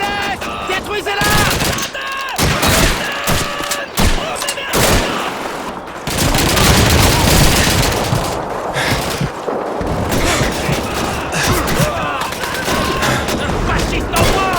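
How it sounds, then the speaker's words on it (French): Enemy machine gun fire rattles in the Russian campaign of Call of Duty 2, with loud bursts of rapid shots, booming explosions and dense battlefield chaos, and soldiers shouting throughout. "Mitrailleuse ennemie à l'est! Détruisez-la!"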